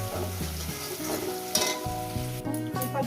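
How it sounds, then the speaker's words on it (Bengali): Onions fry with salt in a pan, a continuous close sizzle of hot oil with occasional stirring scrapes and small spits, steady in loudness and free of talk. "লবণটা আমি দিয়ে দেবো, দিয়ে 3-4 মিনিট আমি এটাকে পেঁয়াজটাকে ভেজে নেব।"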